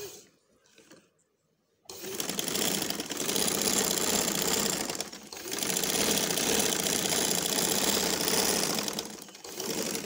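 A sewing machine stitches fabric in long, loud, steady whirring runs with a short dip in the middle, after a quiet opening of faint handling noise.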